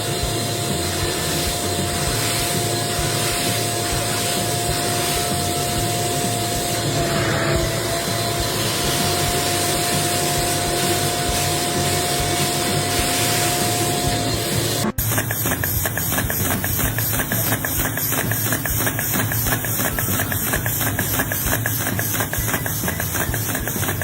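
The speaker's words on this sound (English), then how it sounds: "This vacuum cleaner is incredibly powerful" A powerful household vacuum cleaner runs loud and steady with a broad whooshing roar, its pitch and texture shifting sharply partway through as if the nozzle moves onto a different surface or the suction setting changes.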